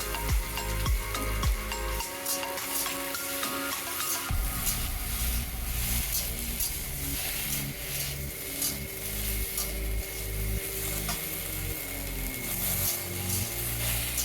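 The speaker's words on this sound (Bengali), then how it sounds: "অল্প একটু ভাজা ভাজা করে নেব।" Ripe elephant apple (chalta) frying in a pan, a steady close sizzle and crackle of oil running throughout with scraping stirs, no voices.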